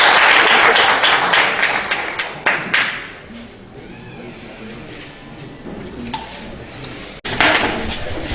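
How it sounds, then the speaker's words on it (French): Audience applause and clapping at a live event, loud at first and fading into a quieter murmuring crowd, with a second burst of clapping near the end. "Applaudissez."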